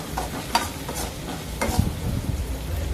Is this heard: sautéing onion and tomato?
yes